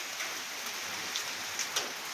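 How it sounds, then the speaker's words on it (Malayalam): Rain falls steadily outdoors over a kitchen garden where plants are being staked, a soft continuous hiss with a few distinct drops ticking louder near the end. "മഴ പെയ്യുന്നുണ്ട്."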